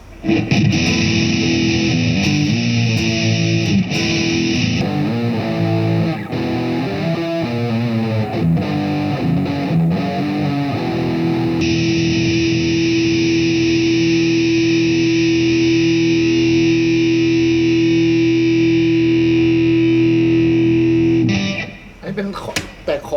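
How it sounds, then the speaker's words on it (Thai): Arpeggiated chords on a Gibson-style copy guitar with an ebony fretboard, played through distortion and chorus effects: loud, sustained, shimmering picked notes ringing into one another, with a brief busier passage early on and a cutoff near the end. "อันนี้เป็นแตกคอร์ดแบบ ผสม"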